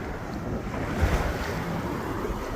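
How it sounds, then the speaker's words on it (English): Waves roll in on Lake Erie in a steady, close wash of surf, with wind rumbling across the microphone throughout. "Watch, as the waves come in."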